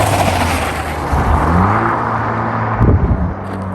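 A Jeep Wrangler JL with a 2.0 engine and Flowmaster exhaust drives past, a loud, deep exhaust rumble swelling as it nears, with a burst of crackle before the sound fades away.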